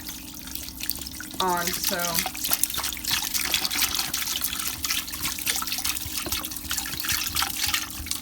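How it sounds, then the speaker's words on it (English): Clean water pours from a jug into a cooking pan, a steady close splashing and trickling that runs on throughout while a person speaks briefly near the start. "Go ahead and add my clean water now to the pan."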